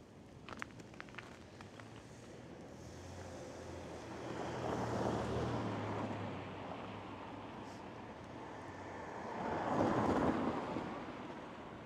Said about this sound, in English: So the wind is making it feel really colder